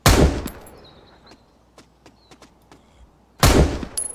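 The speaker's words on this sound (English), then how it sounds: "Then we'll go back to my this sniper rifle for those guys." Two loud, close sniper rifle shots in a video game, one at the start and one near the end, each with a sharp blast and ringing tail, separated by quiet metallic clinks and small clicks.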